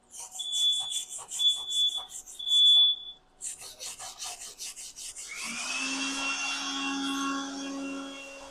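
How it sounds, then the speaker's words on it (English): A workshop smoke alarm beeps in three loud, high bursts over rasping, filing-like scraping. A steady grinding or motor roar then takes over. "The fire alarm. The smoke alarm."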